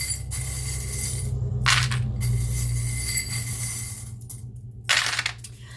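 Small divination charms drop and clatter onto a surface in a few short bright bursts, spread apart over a low steady hum.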